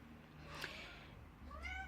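A pet cat meows faintly in the background indoors, two short rising cries with a quiet room hum underneath.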